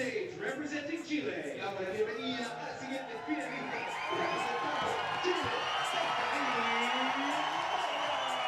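A crowd cheers at a Pan American Games bouldering final in Santiago as a climber is introduced, with scattered shouts and whoops building into a sustained, broad roar of cheering and applause.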